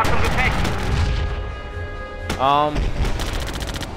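Gunfire striking a Panzer tank in the WWII strategy game Theatre of War, a loud burst of rapid shots and impacts with a metallic ringing whine, while someone talks over it.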